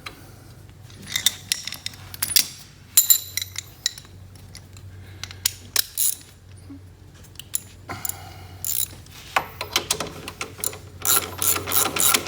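Hand ratchet tightening a 17 mm nut on a motorcycle footpeg assembly of a Venom x19r-family bike, bursts of rapid close clicking pawl strokes with brief pauses and light metallic clinks between them, no talking.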